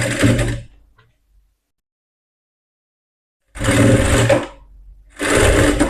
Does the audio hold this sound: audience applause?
no